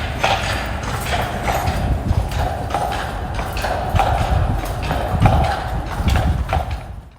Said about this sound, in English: that's enough of the horse stepping because that shit is loud